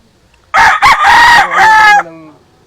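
A rooster crows loudly and close by, one full drawn-out cock-a-doodle-doo that rises, holds, and trails off.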